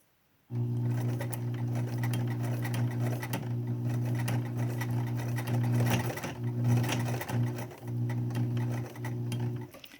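A sewing machine stitches a cloth face mask, starting after a brief silence and then running in a steady close hum with rapid needle clatter, dipping briefly a few times as the fabric is guided.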